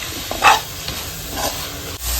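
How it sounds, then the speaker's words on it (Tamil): A handful of mint leaves sauté in a pan while cooking paneer dum biryani, giving a steady close sizzle and hiss with faint stirring taps and no talking. "புதினா நல்லா வதங்கிடுச்சு."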